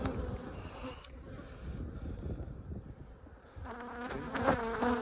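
Honey bees buzz around frames of honey and brood pulled from a summer hive, making a close, continuous drone that swells louder near the end, with light wind noise behind it.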